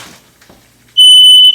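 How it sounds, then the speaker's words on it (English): A kitchen smoke alarm suddenly goes off after a quiet moment, a loud, steady high-pitched electronic beep that holds for about half a second before cutting out. "Oops! There goes the smoke alarm."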